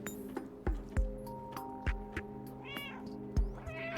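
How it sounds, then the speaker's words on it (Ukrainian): A cat in the video game Stray meows several times, clear drawn-out cries standing out against a steady hum, with sharp metallic clinks and taps scattered between them. "А я буду м'явкати, я буду м'явкати."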